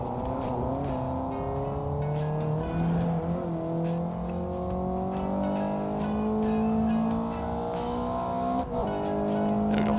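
A family wagon fitted with individual throttle bodies races in a sim racing game, its engine droning steadily and climbing through the revs as it pulls, alone and close throughout.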